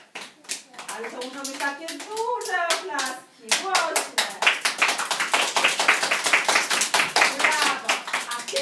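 Children clap their hands in a group play session, sharp irregular claps that start sparse under a voice and then build into a fast, steady burst of clapping, fairly close.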